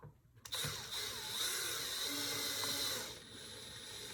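A screwdriver driving wall plate screws to mount an alarm console, a continuous close mechanical whir with faint ratcheting, starting after a brief quiet moment and running steadily for several seconds.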